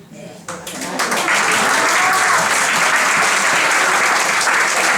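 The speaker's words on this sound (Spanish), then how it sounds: "alargamos este aplauso a todos los invitados, invitadas" Audience applause for guests at a crime-fiction festival event in Lloret, rising quickly from a quiet start into loud, sustained clapping from a full room.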